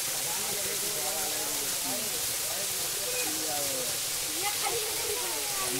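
Waterfall on the trail at Raigad Fort, a broad steady hiss of falling water heard from a distance under voices talking, with no breaks.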